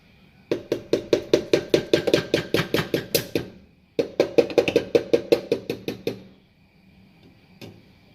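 A knife chops onions on a cutting board while gumbo is being prepared: two bursts of rapid, steady, close knocking strokes, about a dozen each, separated by a brief pause, with no talking.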